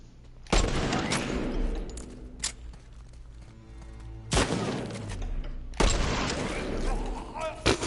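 Gunfire in The Last of Us Part II Remastered, No Return mode: a few loud, sharp shots spaced apart, each followed by ringing decay and rumbling game action.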